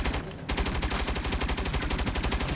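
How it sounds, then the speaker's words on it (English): Rapid automatic gunfire in the video game Saints Row, a steady dense stream of loud shots with only a brief dip near the start. "Incoming fire!"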